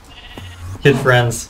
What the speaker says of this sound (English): I'm killing sheep.